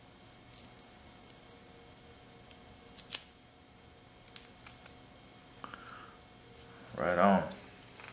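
A cigar is clipped with a sharp snip from a cigar cutter, preceded by scattered small clicks and handling sounds, with a short burst of speech near the end.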